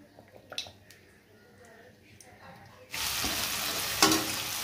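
Garlic and onion hit hot oil in a scorched wok: quiet kitchen clatter at first, then a sudden loud, steady sizzle of frying that carries on to the end.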